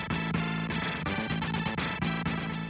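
Commodore 64 SID chip game music plays continuously and loudly, its three voices layering a bright melody, a steady bass line and a rhythm track in a dense chiptune texture.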